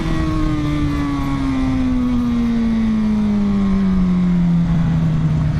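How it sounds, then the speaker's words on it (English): A turbo-style exhaust whistle on a Suzuki GSX-R 750 motorcycle, a steady tone slowly falling in pitch over a loud, continuous engine and exhaust roar, with no talking. "It sounds a little bit like a turbo, but not like you would be expecting."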